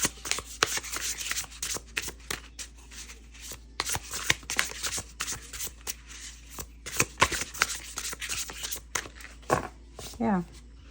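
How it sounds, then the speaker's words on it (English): Tarot cards being shuffled repeatedly up close, a run of crisp riffling and slapping bursts with brief pauses between them. "They shuffle nicely."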